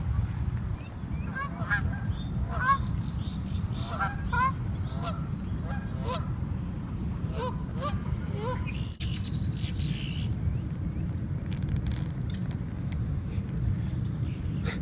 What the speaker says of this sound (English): the birds make some noise